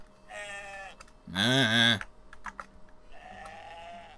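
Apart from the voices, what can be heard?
sheep bleating in video game Moirai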